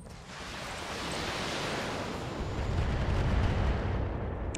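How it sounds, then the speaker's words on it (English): A missile barrage pounding a target in the BattleTech video game, heard as a dense, rumbling roar of overlapping explosions that swells and grows heavier midway, steady and loud with no talk. "Damn, that's a lot of missiles going into that thing."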